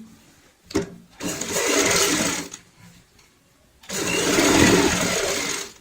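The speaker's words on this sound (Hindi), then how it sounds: "यहाँ पे एक कच्ची सिलाई लगा लेंगे" A home sewing machine runs basting stitches on a cushion cover in two sustained whirring bursts separated by a quiet pause and a brief click.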